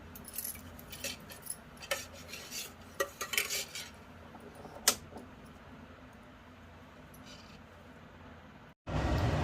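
A kadai pan being set on a gas stove, heard as a quick series of metallic clinks and scrapes of cookware, then a single sharp clank and quiet room tone before an abrupt jump to steady noise.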